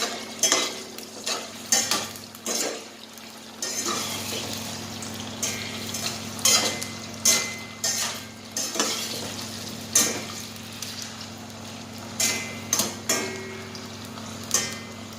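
Chicken pieces fry in a pan for a caldereta, with a soft continuous sizzle broken by repeated sharp clinks and scrapes as the pieces are stirred and turned over.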